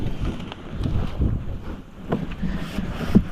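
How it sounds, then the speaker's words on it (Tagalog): Strong wind buffets the microphone on a farm in low rumbling gusts, rising and falling over a few seconds, with no other clear sounds. "lumakas yung hangin"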